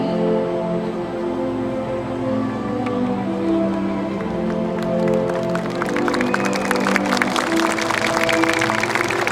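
A crowd at a national labour-figure award ceremony of the KSPSI union breaks into applause, a crackling patter that swells to a dense, sustained clapping over a steady background hum.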